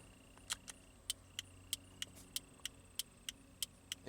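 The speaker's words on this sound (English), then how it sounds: "It works. You can hear the click coming from inside." The hazard flasher relay in a 2003 Pontiac Grand Am clicks steadily inside the car, a faint and even tick repeating about three times a second with no talking.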